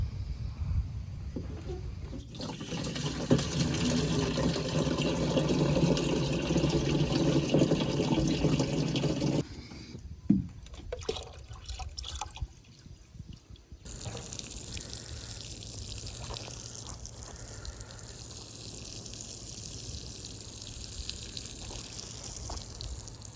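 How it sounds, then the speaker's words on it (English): Water from a rain tank is poured over freshly planted garlic cloves in a garden bed, a steady splashing flow that stops midway, followed by lighter trickling and dripping. "we're going to get some water from our rain tank on these guys"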